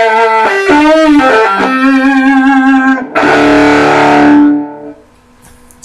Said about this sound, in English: I'm going to crank the distortion full blast on it.